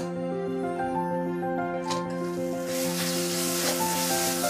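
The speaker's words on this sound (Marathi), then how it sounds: "आता मी हे 4 मोठे कांदे बारीक चिरून घेतलेले आहेत ते आता याच्यामध्ये घालून घेतोय." Four large, finely chopped onions with garlic hit a pan, and a broad sizzle swells in the latter half beneath a steady, tonal background hum; no one speaks.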